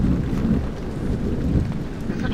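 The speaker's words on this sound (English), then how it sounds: "Oh my god, I absolutely love the rain." Steady rain with low rolling thunder in the horror video game Amnesia, a continuous dense wash of downpour with deep rumbles underneath, fairly loud and unbroken throughout.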